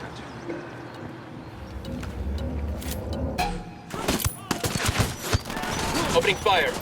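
Gunfire in a Ghost Recon Wildlands firefight: a busy burst of loud, sharp shots and cracks clusters in the second half, over constant background game noise, with voices briefly heard.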